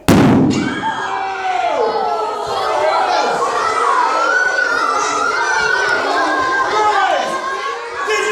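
A match-ignited balloon of hydrogen mixed with oxygen bursts in one sharp, loud bang at the start, followed at once by a crowd of children screaming and cheering.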